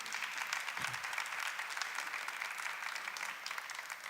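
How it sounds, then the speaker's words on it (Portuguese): A church congregation claps at an adoration service at Cachoeira Paulista. The applause is steady and sustained, with many hands clapping together in a reverberant hall for about four seconds. "Vamos dar uma salva de palmas a Jesus Eucarístico."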